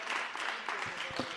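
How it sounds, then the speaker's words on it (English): Members of the Gauteng provincial legislature clap in a round of applause during a budget address, a moderately quiet, diffuse patter of many hands in a chamber. "We can also get a round of applause"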